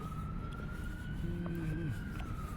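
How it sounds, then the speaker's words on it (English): An Emergency Health Services vehicle siren wails steadily in the distance on a city street near Quinpool Road, holding a sustained tone under constant traffic noise, with a brief lower horn-like blast in the middle. "So I see a emergency vehicle coming up there with lights flashing."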